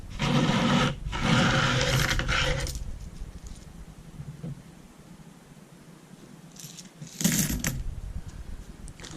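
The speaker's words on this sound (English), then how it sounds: "Alright, the steel pins are in the drum. Let's go add the pennies." Crusty beach pennies are poured into a Leegol 3 lb rock tumbler drum holding stainless steel pins, giving a loud metallic clattering rush for about two seconds, then a quieter pause and a second short burst of jingling coins.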